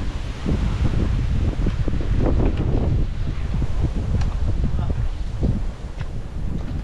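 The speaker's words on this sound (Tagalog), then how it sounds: "Oh, lakas ng hangin, oh." Strong wind buffets the microphone at a seaside fishing spot, a steady loud roar with gusts throughout, with people talking in Tagalog over it.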